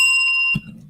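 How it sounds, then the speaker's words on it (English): A single bright bell rings in a garage with clear sustained tones that cut off abruptly after about half a second, followed by a low thump and faint rumble. "That was a good bell."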